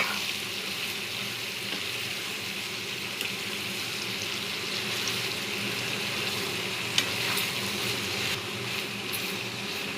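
Chicken and tomatoes fry in oil with a steady, close sizzle that fills the whole stretch, broken by a few soft stirring scrapes, with no voices.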